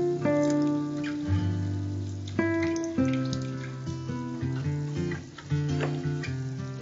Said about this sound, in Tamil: இப்ப வந்து இதுல நம்ம புளி தண்ணி விட போறோம்